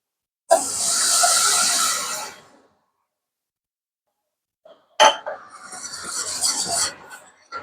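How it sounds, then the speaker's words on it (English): Milk pours into a hot roux for au gratin potatoes with two bursts of hissing, splashy sizzle separated by a silent pause, the second burst more broken and uneven than the first. "So now I'm going to be adding in my milk."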